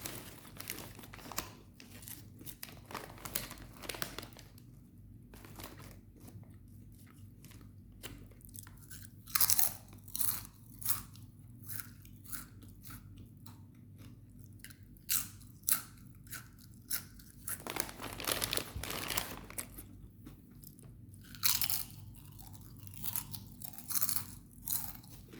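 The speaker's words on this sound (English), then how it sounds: "It's very crispy, thin potato chips." Crispy, thin Lay's potato chips crunch between the teeth in repeated close bites and chewing bursts, with quiet gaps between mouthfuls and some crinkling.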